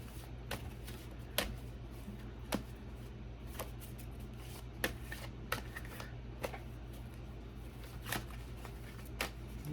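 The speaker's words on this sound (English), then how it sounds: "can we have another card for the Selene baby?" Tarot cards are shuffled by hand, giving soft papery riffles and scattered light clicks that sound quiet and close, with no talking.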